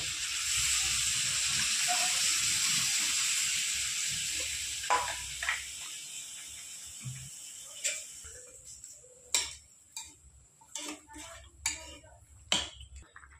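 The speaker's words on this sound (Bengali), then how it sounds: "এবার দিয়ে দেবো পরিমাণ মতো জল।" Water poured into a hot pan of winter vegetables and amudi fish for chorchori sets off a loud steady hiss and sizzle that fades after a few seconds, followed by scattered clinks and knocks.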